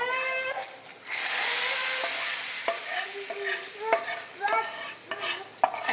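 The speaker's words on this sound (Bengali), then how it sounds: "দিয়ে দিলাম ফোড়ন" Spice tempering sizzling for khichuri, a hissing burst of frying with stirring, while a voice speaks intermittently over it at close range.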